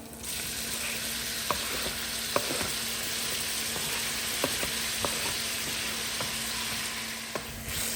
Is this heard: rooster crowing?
no